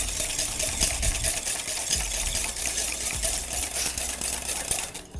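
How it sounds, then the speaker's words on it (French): Egg yolk and sugar being whisked together until pale for a pastry dessert, a steady, busy churning whir with rhythmic strokes, fairly close and continuous throughout. "Je vais donc moi prendre le sucre et blanchir mon jaune d'œuf avec le sucre."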